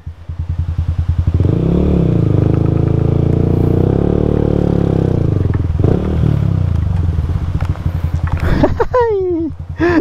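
A motorcycle engine idles and revs loudly up close on Polillo Island, Philippines, with a rattling, throaty drone, then drops away as a voice speaks briefly in Filipino near the end.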